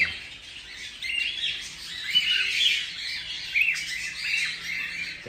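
Cockatiels in breeding season keep up a steady stream of overlapping chirps and squawks, fairly close and moderately loud, with no voices.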